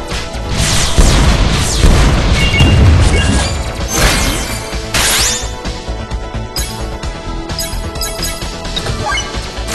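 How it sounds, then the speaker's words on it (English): Burning rocket attack from the WinWing First Wingman Ultimate Legendary Fusion in a video game, a loud crashing explosion with heavy booms early on, then bursts of debris and crackling impacts that continue throughout. "Burning rocket."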